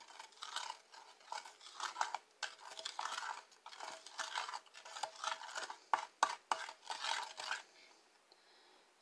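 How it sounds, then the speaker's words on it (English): Food mixed with a wooden spoon, a series of soft, clicking scrapes and wet knocks at an irregular rhythm, close but faint, with no talk. "Take the wooden spoon and mix it well"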